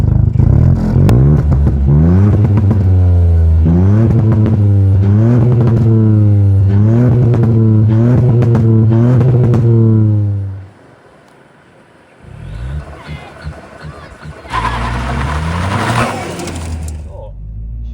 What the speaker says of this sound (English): So, shooting the Mk7, straight away, the exhaust noise.